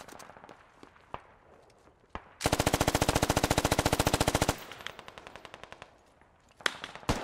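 In the video game Squad, one long rapid burst of machine gun fire rattles loudly, framed by sparse footsteps and a few isolated shots before and after.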